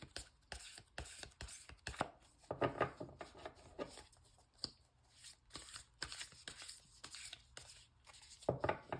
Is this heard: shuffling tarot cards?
yes